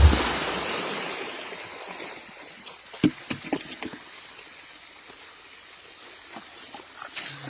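Water is poured out in a rushing splash that is loudest at the start and tapers to a thinner trickle, followed by a few scattered gurgles and drips.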